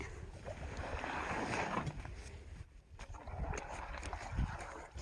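A boat moves across the sea with rushing water and wind buffeting the microphone, a continuous rough wash that dips briefly then swells again, no clear voices.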